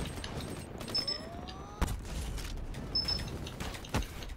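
Grenade explosions and gunfire in Call of Duty WW2, with scattered distant booms and sharp reports over a rumbling battle background, quiet overall and with no voices.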